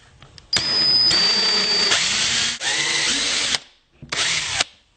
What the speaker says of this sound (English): I'm using a special drill bit to make my holes.